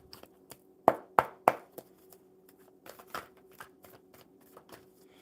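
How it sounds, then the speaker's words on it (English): A deck of oracle cards is shuffled by hand: a few sharp riffling snaps close up, then softer, quicker card taps and slides over a faint steady hum. "And then we shuffle the oracle."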